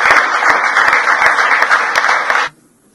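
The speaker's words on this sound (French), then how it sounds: "je voudrais que tous ensemble, nous puissions les remercier en acclamant" A French assembly breaks into loud, sustained applause, dense clapping from many hands that holds steady and then stops abruptly, leaving near silence.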